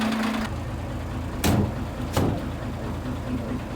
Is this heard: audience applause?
no